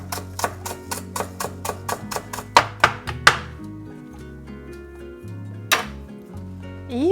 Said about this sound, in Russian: Пол-пучка душистого укропа